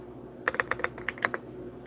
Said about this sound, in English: I am typing names live